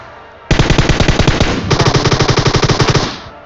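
Rapid automatic gunfire from a shooting video game, two long loud bursts of evenly spaced shots, the second starting a moment after the first and trailing off near the end, with no voices.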